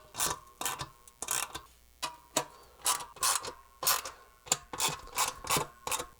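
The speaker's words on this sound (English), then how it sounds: "you can go around with a 1/4-inch socket and just make sure that they're tight" A socket wrench tightens the lug screws on a vintage Ludwig Supraphonic snare drum, giving repeated bursts of close, crisp ratcheting clicks in a steady stop-start rhythm.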